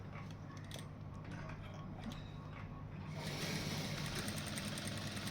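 A sewing machine stitches piping, a quiet mechanical whir with rapid needle ticking that grows a little louder and busier toward the end.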